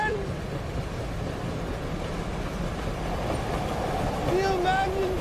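A low, steady rumble fills a train interior as the carriage rolls on, with faint rattling underneath and people talking over it.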